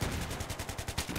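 Rapid bursts of video game gunfire during an online shooter match, a dense run of sharp repeated shots like machine-gun fire, loud and continuous over about a second.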